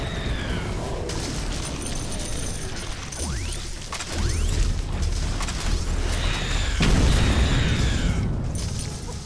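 A wall is destroyed in The Riftbreaker, heard as heavy booming crashes and grinding mechanical debris under game sound effects, with rumbling impacts building toward the end.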